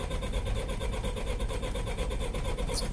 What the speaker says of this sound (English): Starter engage. That's the key. Start her up.